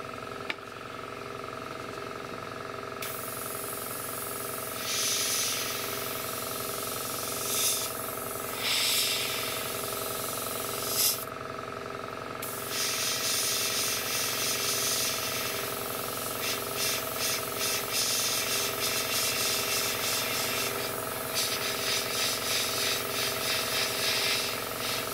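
Airbrush spraying paint in a camouflage pattern, heard as bursts of steady hiss that start and stop over a constant compressor hum, close and moderately loud.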